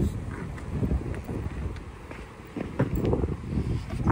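Wind buffets the microphone in uneven low rumbling gusts, continuous throughout with no talking.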